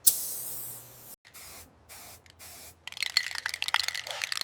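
Spray painting a car panel during a restoration: short bursts of hissing spray separated by pauses, then a rougher, crackling spatter of spray toward the end, close and fairly loud.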